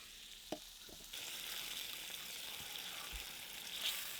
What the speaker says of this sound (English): So now we have to stir this really well.